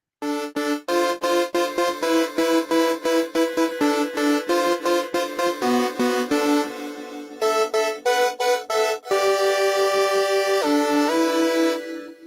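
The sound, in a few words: synthesizer power chord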